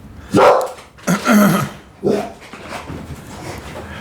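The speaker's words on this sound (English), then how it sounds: "I apologize for the barking" A dog barks loudly nearby in three sharp bursts, then quieter whimpering and panting follow.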